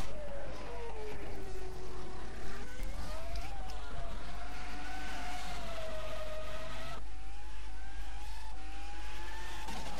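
Race car engine from a racing video game whining and shifting pitch continuously as the car slides at the rear, a loud steady simulated motor with rising and falling tones throughout.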